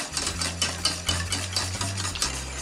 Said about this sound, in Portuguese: a gente precisa agitar a calda, por isso eu estou usando um fouet e mexendo bem.